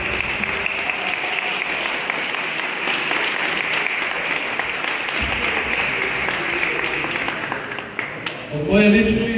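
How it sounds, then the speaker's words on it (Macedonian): A seated audience at an awards ceremony for Makinova 2023 and Ekonova gives long, dense, sustained applause that stays loud and steady, then tails off as a speaker's voice begins at the end. "долготраен аплауз"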